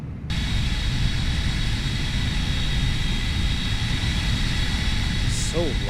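A steady, loud roar of a jet airliner engine in a flight simulator game, a Toliss A321, forming a continuous broadband rumble with a faint higher whine above it, unchanged for the whole stretch.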